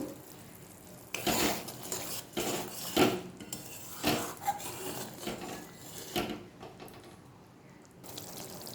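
Paneer kofta curry masala, made without onion or garlic, is stirred and fried in a pan: repeated scraping and clinking strokes of a utensil against metal over a low sizzle, pausing toward the end, with no voices.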